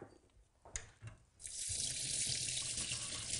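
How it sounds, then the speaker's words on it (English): Cold tap water pours over red lentils in a fine metal sieve. After a few soft clinks, a steady hiss of running water starts partway through and continues evenly to the end. "Just rinse them under cold water."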